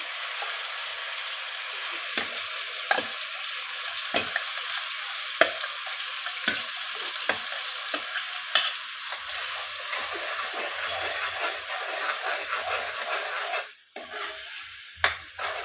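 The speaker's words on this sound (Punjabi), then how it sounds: "ਜਿਹੜਾ ਮਸਾਲਾ ਮਿਕਸੀ 'ਚ ਗ੍ਰਾਈਂਡ ਕਰਿਆ ਸੀ ਲਸਣ ਗੱਠਾ ਅਦਰਕ ਦਾ ਉਹ ਵਿੱਚ ਪਾ ਦਿੰਨੇ ਆ" Ground garlic, onion and ginger masala frying and sizzling in a pan, a steady hiss throughout, broken by sharp clicks of stirring at intervals and a louder scrape near the end. Nobody speaks.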